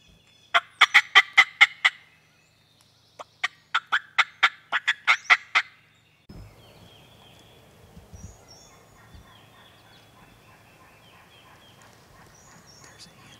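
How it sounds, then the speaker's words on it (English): Two bursts of loud, rapid gobbling from a wild turkey, the second a little more distant, followed by quieter outdoor rustling and faint background birds. "the birds have been gobbling pretty good this morning"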